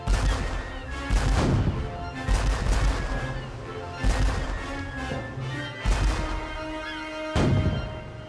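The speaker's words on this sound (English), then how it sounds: "Hornigold's 3 ships attack the French ship with their guns." Ship cannons firing in a sea battle as three ships attack a French ship, a run of heavy booming blasts in irregular bursts, loud and close with no talk.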